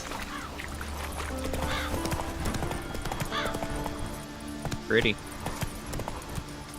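Roach, Geralt's horse in The Witcher 3 video game, trots closer with steady hoof clip-clops and a brief whinny, set against game ambience and music while someone talks over it.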